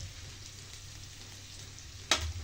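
Butter melts in a pan with shrimp and garlic, giving a faint, steady sizzle throughout, followed by a brief sharp clack near the end.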